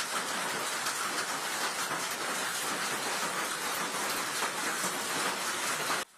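Large hailstones about eight centimetres across pounding roofs and parked cars during a summer storm, a dense, continuous roaring clatter of impacts, loud and unbroken until it cuts off abruptly.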